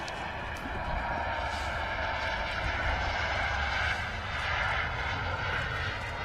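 An Icelandair airliner in its new livery roars steadily at Manchester Airport, a loud, broadband jet engine rumble held throughout.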